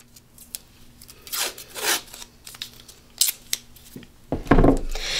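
Painter's tape is pulled off a roll, giving several short ripping and crinkling bursts spread across a few seconds, close and fairly quiet, with one louder rip near the end.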